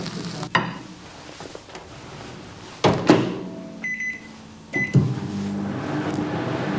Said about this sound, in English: Browning is done on high for 2 to 4 minutes, occasionally turning the meat to make sure that it's nicely browned all over